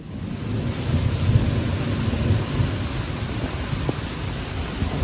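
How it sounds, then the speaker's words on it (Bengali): Heavy rain pours in a thunderstorm, a dense steady roar with low rumbling thunder underneath, close and continuous with no voices. "এত জোরে বৃষ্টি হচ্ছে কি বলবো"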